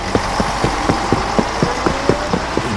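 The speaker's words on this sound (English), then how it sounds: "The sounds of Friday morning traffic fill the air." A car engine idles nearby in Friday morning street traffic, a steady low rumble with an even, regular knocking pulse and no voices over it.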